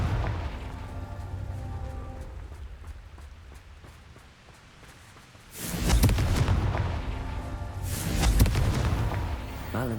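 Explosive Confringo spell blasts in the Hogwarts Legacy game, with a low rumbling stretch of game sound followed by two loud booming blasts several seconds apart, each trailing off into a rumble.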